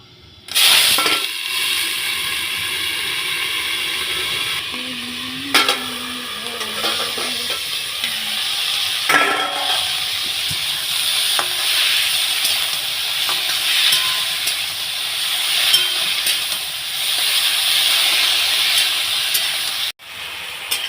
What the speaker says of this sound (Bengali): তো দেখো আলুটা ভাজতে দিয়ে দিলাম